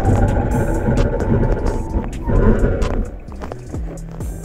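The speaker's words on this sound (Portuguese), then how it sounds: "Será que temos aqui uma oportunidade da freada perfeita? Vamos lá, acelerei, estou a 100 km por hora." A Fiat Argo Drive 1.0 brakes hard from 100 km/h: loud, steady road and cabin rumble that drops off sharply near the end as the car slows, leaving falling tonal whines and quieter rumble.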